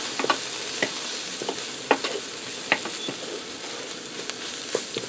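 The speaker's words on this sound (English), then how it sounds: "I'm going to stir that around and allow that to cook in there for a minute" Flour is stirred into sautéing mushrooms, onions and garlic, a constant frying hiss punctuated by sharp, evenly spaced scrapes of the utensil, close and clear, with nobody talking.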